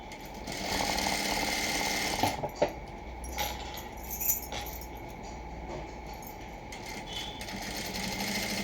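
A sewing machine double-stitching the shoulder seam of a plain blouse, a close continuous mechanical whir with a few sharp clicks and knocks partway through.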